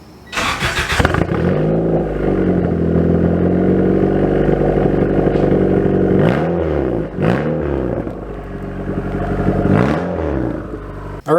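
Car exhaust droning at a steady low pitch with a brief sharp rev at the start, then a constant loud hum broken by a few short blips of throttle, close and with no talking.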